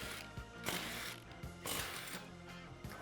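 A ratchet clicks in quick bursts, pausing between strokes, close and clear in a quiet setting, while removing the front wheel of a Yamaha Blaster 200 ATV.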